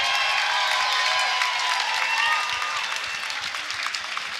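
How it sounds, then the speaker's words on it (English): An audience at an MMA event for fighters Ryan Martin and Jon Viruet breaks into dense applause and cheering, loud at first and tapering slightly toward the end. "How about a round of applause for these two great fighters"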